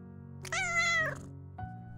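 A single clear, drawn-out cat meow, high and tonal, rising then falling, close and fairly loud over a faint steady background hum.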